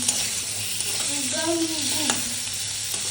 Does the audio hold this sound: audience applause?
no